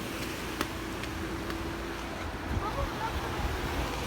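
Surf washing along a seashore near Kuşadası, heard as a steady, fairly faint broadband rush with wind buffeting the microphone throughout.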